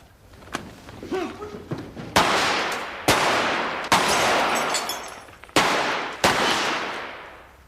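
Gunshots ring out in a drama scene: several loud, close shots in an irregular sequence, each with a sharp crack and a decaying echo.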